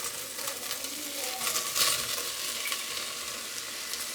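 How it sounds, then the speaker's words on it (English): Onions fry in oil in a pan for a rabbit stew, a soft continuous sizzle and crackle with faint stirring scrapes throughout. "next we're gonna throw our onions in there"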